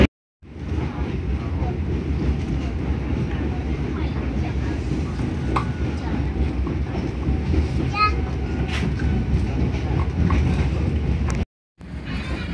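Indonesian KA 201 Tawang Jaya passenger train pulling into Bekasi station: a loud, steady low rumble of rolling wheels and carriages fills nearly the whole stretch, with faint voices and squeals above, then cuts briefly near the end.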